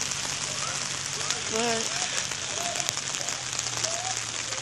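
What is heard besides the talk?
rain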